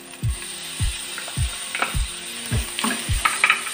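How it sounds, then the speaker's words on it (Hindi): Finely chopped onion fries with cumin in a pan, giving a soft sizzle under six rhythmic scraping strokes of a spoon at about two per second, close by. "अब हम 1 बारीक कटी हुई प्याज डालेंगे। प्याज के 1 मिनट तक इसी तरह से चलाएंगे"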